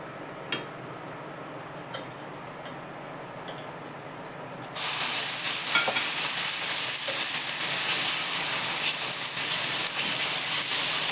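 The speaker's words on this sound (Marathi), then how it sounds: "जरा शेकायला साबदाण्याच्याला वेळच लागतो पण चांगले असे खरपूस भाजू द्यायची" Sabudana thalipeeth, a tapioca-pearl flatbread, roasting in a pan: a quiet stretch with a few light clicks gives way to a loud, steady broadband sizzling hiss that carries on without voices.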